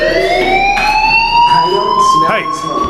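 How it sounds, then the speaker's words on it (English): A fire alarm in the video game Life is Strange sounds as a steady, loud, high electronic whine with layered harmonics that holds throughout, while muffled voices and background game noise come and go beneath it. "do you hear that fire alarm? That means you should be outside."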